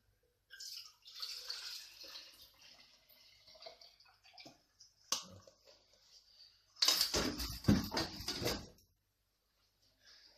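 Green juice drips and trickles through a small colander, with soft wet patters and a brief burst of heavier splashing toward the end, close by and with no talk.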